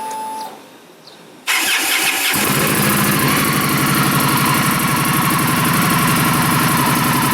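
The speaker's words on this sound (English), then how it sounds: "So let's start up the Scout. Hear what Burt sounds like" An Indian Scout Sixty motorcycle on stock exhaust pipes cranks briefly, catches and settles into a loud, steady, close idle rumble.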